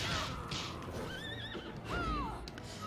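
A horse whinnies in the Bloodstained video game, with rising and falling neighs and clip-clop hoofbeats over busy game background sound.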